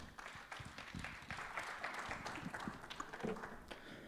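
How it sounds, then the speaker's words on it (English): Audience applause at a panel discussion and award presentation, a faint, steady wash of clapping from a distant crowd that holds through the whole stretch. "Give them a huge round of applause before I call them on stage."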